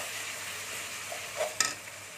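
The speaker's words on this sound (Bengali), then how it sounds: "এটা আমি ভালো করে মশলাটা কষে নেবো" Spice masala fries in a pan with a faint, even sizzle, broken near the end by a brief scrape and a single clink of a spoon.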